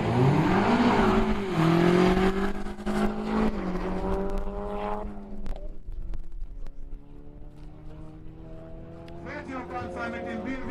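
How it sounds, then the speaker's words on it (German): A Ford Focus RS and a BMW M5 launch in a quarter-mile drag race at Brilon, engines roaring and rising through gear changes before fading into the distance as a voice commentates. "Ford Focus RS gegen BMW M5."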